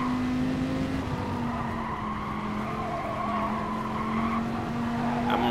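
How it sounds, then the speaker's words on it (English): A Gr.3 race car in a racing game at Autopolis drops into fourth gear, its steady engine drone holding a strong, continuous tone close up with tyre scrub underneath and no voices. "Downshift into fourth."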